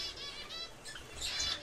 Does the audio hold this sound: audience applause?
no